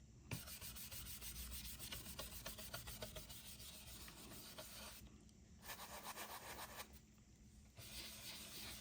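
Cloth rubbing wax off a painted wooden craft piece, a steady close scrubbing and rasping that continues for several seconds with two short pauses, no talk.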